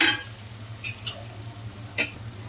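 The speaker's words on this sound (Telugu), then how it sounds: "చక్కగా వేగిపోయి గోల్డెన్ కలర్ వచ్చేంత వరకు వేయించుకుందామండి" Soft sizzling of green chillies, onion pieces and vegetables frying in a pan for a masala curry, a faint steady hiss with a few light stirring scrapes.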